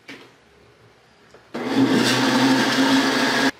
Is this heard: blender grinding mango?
yes